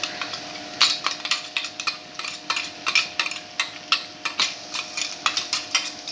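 Spoon stirring crushed kanthari chilli into a simmering fish curry, rhythmic scraping and tapping against the pot with a light sizzle beneath, close and steady throughout.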